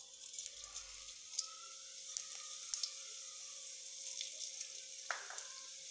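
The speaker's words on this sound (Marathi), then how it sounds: "आता हे तेल तापल्यानंतर यामध्ये आपण मसाले टाकणार आहोत. यामध्ये आपण जिरे टाकूया" Cumin seeds sizzle in hot oil in a pan, a steady close crackling hiss with small pops and a brief stir, quiet and continuous without talk.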